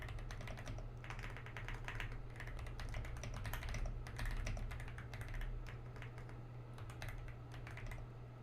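Typing on a Thoki computer keyboard, rapid uneven clusters of crisp key clicks, close and clear over a low steady hum, continuing without pause.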